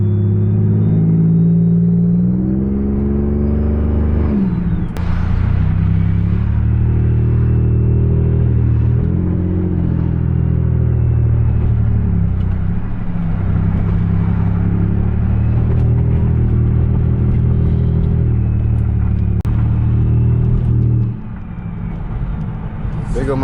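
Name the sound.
Chevy Impala LT 3.9L V6 straight-pipe exhaust while driving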